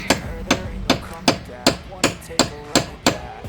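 Nine sharp metallic hammer blows from the back of an axe, striking a lawn mower part at a steady, unhurried pace, each one loud and close with a short ringing decay.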